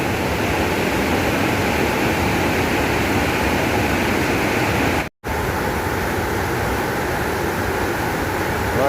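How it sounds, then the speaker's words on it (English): Waterfall in the village of Olden, Norway, roaring as a dense, unbroken wash of white water close by, loud and steady apart from one brief dropout. "Behind me you can hear the roar of the water there."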